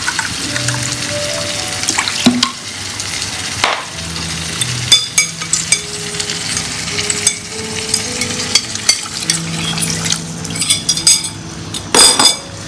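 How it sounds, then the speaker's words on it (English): Drumstick kurma stirred in a pot, with close metallic scraping and clinking of a spoon against the pot over a low bubbling, wet simmer, in uneven bursts. "I'm going to give it a stir, and it has to come to a good boil"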